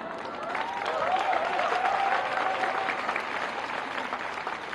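An audience applauding steadily for several seconds at a speech in Delhi, dense clapping that swells slightly and then holds, with a faint voice over it.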